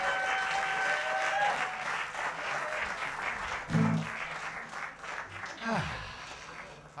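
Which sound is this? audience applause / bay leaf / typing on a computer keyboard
audience applause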